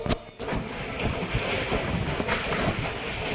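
The Madgaon–Nagpur Express rolls along the rails, heard from onboard as a continuous rumbling rattle with wind noise and faint rhythmic clicks, fairly loud and steady after a brief dip at the start.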